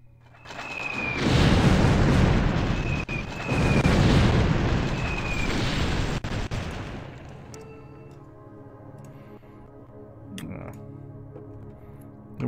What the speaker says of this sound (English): see if I can get them to bomb a facility